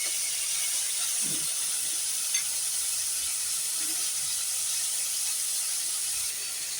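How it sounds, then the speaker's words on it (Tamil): Chopped mint and coriander sauté in a pan for paneer pulao, a steady soft sizzle and hiss running throughout with no one talking. "புதினா, மல்லி பொடியாக கட் பண்ணி வச்சுருக்கதை எல்லாம் சேர்த்துக்கலாம். ஒரு 2 நிமிஷம் நல்லா வதங்கட்டும்."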